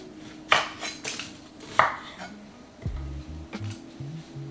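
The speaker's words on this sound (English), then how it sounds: "Then I'm gonna cut this part off." A knife cuts through an onion on a cutting board, giving a few sharp, separate chops in the first two seconds, followed by quieter taps and board knocks, close and fairly soft with no talking.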